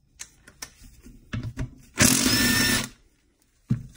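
A power tool spins out transmission case bolts on a 2012-2015 Honda Civic Si with a K24Z7 engine: one close, loud whirring burst of about a second amid scattered clanks and handling knocks.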